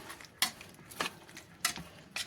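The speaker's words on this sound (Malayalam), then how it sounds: "ഇനി നമുക്ക് രണ്ടാം പാൽ ഒഴിച്ച് കൊടുക്കാം ഇനി നമുക്ക് നന്നായി കൂട്ടി ഇളക്കിയിട്ട്" Olan, an ash gourd curry with coconut milk, is stirred in a pot: four brief scraping clanks of a spoon against the pot, spaced apart and fairly faint, with no talking.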